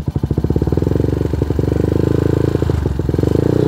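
Yamaha NJMX 177cc road-race-spec motorcycle engine running close and loud, a fast, steady pulsing idle and revving with slight dips, no voices over it.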